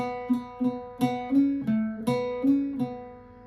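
A close Irish bouzouki plays a brief, even melodic phrase of about nine twangy notes from the tune Old Hag You Have Killed Me, each ringing briefly before the next, with no voices.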